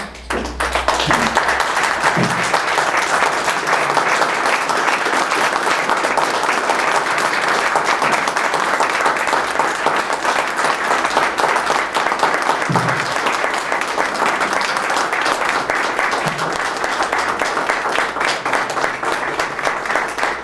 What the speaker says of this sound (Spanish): y ahora don Gregorio también pido un minuto de aplausos para estos 40